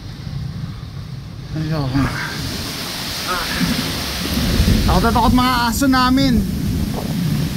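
Heavy rain sweeps in with gusting wind, a steady loud hiss of downpour on surfaces filling the whole stretch while people talk close by over it.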